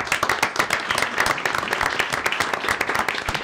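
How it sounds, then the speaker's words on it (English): A smaller group claps at a city council meeting, individual hand claps distinct and close in a brisk, uneven patter that continues throughout. "Let's give him a round of applause."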